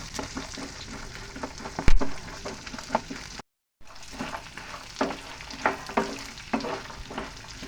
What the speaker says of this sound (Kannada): ಒಣ ಕೊಬ್ಬರಿ, ಒಣ ದ್ರಾಕ್ಷಿನ ಲಾಸ್ಟಿಗೆ ಹಾಕೊಬೇಕು. ಅದನ್ನು ಮತ್ತೆ ಚೆನ್ನಾಗಿ ಫ್ರೈ ಮಾಡಬೇಕು